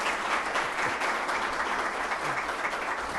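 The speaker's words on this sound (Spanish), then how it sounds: "Aplausos" Continuous crowd applause following remarks at a talk with Humberto de la Calle, dense and even throughout with no speech over it.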